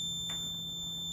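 An electrical construction timer buzzer sounds as a continuous high electronic tone, loud and steady throughout, with a brief burst of noise near the start.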